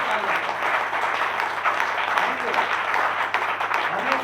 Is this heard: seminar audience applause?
yes